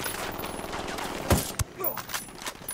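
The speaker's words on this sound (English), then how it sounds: "Open fire, go loud." Gunfire in Ghost Recon Wildlands, with a steady rattle of shots under ambient noise, then a couple of sharp, louder cracks at the middle followed by scattered reports.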